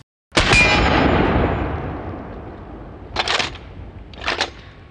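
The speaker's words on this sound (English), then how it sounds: "We're gonna shoot all 5 of these rounds and see how they feel." A lever-action 12 gauge shotgun fires one loud, close blast that rings off slowly, followed by two sharp mechanical clacks of the lever cycling.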